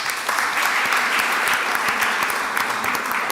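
Applause at a city council meeting for a seventh-grade varsity basketball player, a steady burst of clapping from a gathered audience, fairly close and even, with no talk over it.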